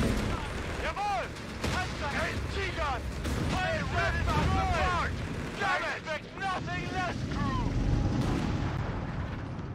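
An anti-tank gun firing in the strategy game Company of Heroes 3, during a North African desert campaign mission, heavy booming shots amid dense battle noise, with voices and chatter layered over the top.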